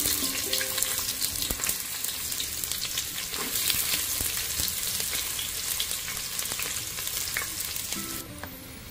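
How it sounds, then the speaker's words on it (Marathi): Cumin, bay leaf and finely chopped onions crackle loudly in hot oil in a heated pot for mutton biryani, a dense continuous sizzle with sharp spatters throughout, quieter near the end. "थोडंसं जिरं टाकतीये, तमालपत्र, 3 छोटे बारीक चिरलेले कांदे,"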